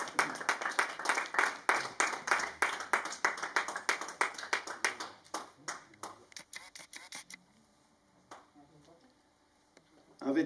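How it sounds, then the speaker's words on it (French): Applause at an MMA weigh-in for a Brazilian fighter being introduced, brisk crowd clapping that thins out and dies away after about seven seconds, leaving near silence before a sudden noise at the end. "On peut l'applaudir."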